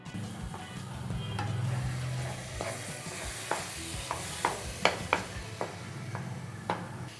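A spoon stirs bread halwa cooking in milk and sugar in a pan, with soft scraping, a low sizzle and several sharp clicks of the spoon against the pan, close and with no talk.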